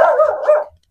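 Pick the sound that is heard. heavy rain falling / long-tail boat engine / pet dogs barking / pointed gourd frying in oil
pet dogs barking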